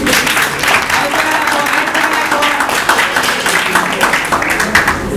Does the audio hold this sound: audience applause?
yes